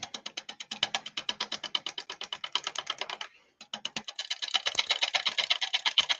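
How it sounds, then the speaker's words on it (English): Rapid, evenly spaced clicking taps from a wood lathe running at about 500 rpm as a 1/2-inch spindle gouge catches the spinning wet callistemon wood, with slight vibration, pausing briefly midway before resuming. "Spindle gouge, 1/2 inch spindle gouge. Running at about 500 revs at the moment."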